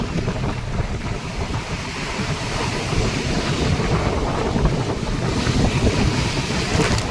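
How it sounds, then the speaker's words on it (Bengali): Strong cyclone-driven wind over the Bay of Bengal during Cyclone Remal, a steady, loud roar buffeting the microphone with rough sea and surf noise beneath, continuous for the whole stretch and swelling slightly toward the end. "প্রচুর পরিমাণে বাতাস বইছে, কিন্তু ঠান্ডা পড়ছে না।"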